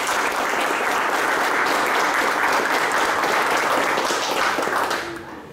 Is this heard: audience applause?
yes